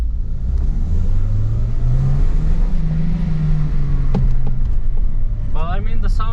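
Toyota Corolla E12 engine revs up and down, a steady mid-pitched drone that swells and eases, heard from inside the car with brief outside noise near the end.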